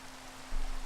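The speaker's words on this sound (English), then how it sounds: "it's starting to rain." Rain falling in SevTech, a Minecraft modpack, a soft steady hiss that swells slightly in the second half of this brief moment, with no talk.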